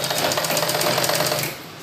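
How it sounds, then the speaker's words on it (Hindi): A sewing machine stitches a straight seam on suit fabric, running a loud, steady, rapid mechanical chatter close by, then easing slightly as it slows at the end. "और ऐसे सीधा सिलाई चलाएंगे।"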